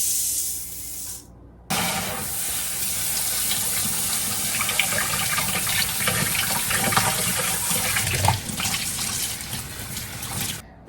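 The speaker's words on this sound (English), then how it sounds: "I'm going to rinse my rice, and you can use any type of strainer that you have to rinse it out with" Jasmine rice being rinsed under a running kitchen tap in a strainer, the steamer basket from an Instant Pot: a steady, loud broadband gush of water that starts after a brief pause and flows continuously, with splashing shifts near the end and no talking.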